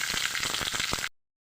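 Mustard seeds splutter in hot oil in a kadai while sundal is being made, a dense close crackle of rapid pops for about a second before it cuts off to silence.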